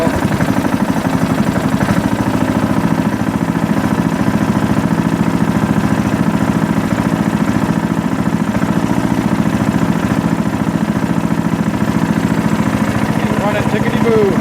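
An old MTD lawn tractor's small engine runs steadily and loudly nearby, a constant mid-pitched drone with a rough, even throb that holds without obvious revving throughout.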